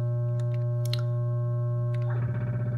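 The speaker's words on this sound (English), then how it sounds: "I'm just gonna add another sine wave." A steady electronic sine tone from an ER-301 synthesizer module hums continuously, joined near the end by a second wavering, pulsing synth sine tone layered on top.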